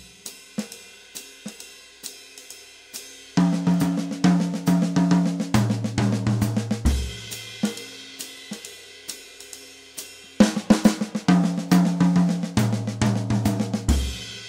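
Jazz drum kit playing simple fills built from two-beat and three-beat bar patterns, crisp snare and tom hits with cymbal wash in short rhythmic bursts separated by brief pauses, close and clear with no talk.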